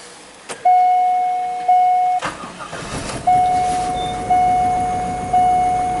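A Corvette with a barely-running fault cranks over repeatedly: loud rhythmic starter whirring in several bursts with a steady electronic tone beneath, close and alone without speech.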